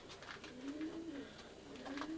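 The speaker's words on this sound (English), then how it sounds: "Right now, we're inside of Steve's breeding loft." Pigeons coo softly in a breeding loft, repeated low rolling calls overlapping with faint fluttering and rustling, steady and fairly quiet.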